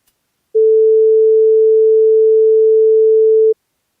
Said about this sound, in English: this is what a sine wave sounds like.